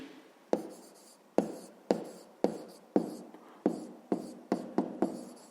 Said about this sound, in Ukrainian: зараз записуємо відповідь, пишемо відповідь